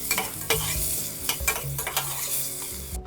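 Radishes fry in a pan with a continuous sizzle, while a spoon or spatula knocks and scrapes against the pan as they are stirred, close and fairly loud.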